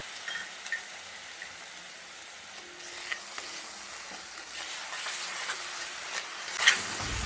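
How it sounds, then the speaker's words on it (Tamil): Onions sautéing in oil in a pan for a Kerala-style boneless fish curry give a soft, steady sizzle, quiet and close, with light stirring scrapes near the end. "இதில் நல்லா வெங்காயம் நல்லா வதங்கணும்"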